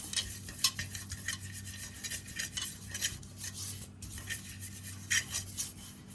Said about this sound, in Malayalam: നമുക്കിനി ഇത് നന്നായിട്ടൊന്ന് നമ്മുടെ ചട്ടി കംപ്ലീറ്റ്ലി ഇതൊന്ന് അപ്ലൈ ചെയ്ത് കൊടുക്കണം